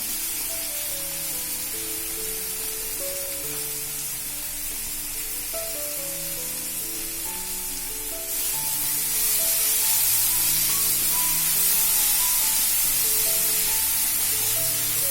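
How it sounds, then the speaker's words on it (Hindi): Tomatoes frying in a pan for puffed-rice poha make a steady hissing sizzle that grows louder partway through, with a melodic background tune. "इसको थोड़ा सा भूनना है जब तक ये टमाटर हल्के से गल ना जाए"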